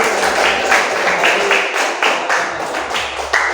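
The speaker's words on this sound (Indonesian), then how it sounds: "beri tepuk tangannya untuk teman-teman" A classroom of students claps for their classmates, a short burst of rapid, overlapping hand claps, fairly close and steady, with no speech over it.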